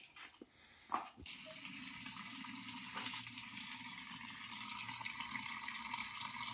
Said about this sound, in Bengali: এটা এখন আমরা জলে রাখছি।